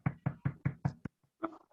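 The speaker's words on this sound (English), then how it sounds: "when somebody knocks at the door" Knocking on a door, five or six firm, evenly spaced raps in quick succession, close and distinct, followed by a faint softer thump.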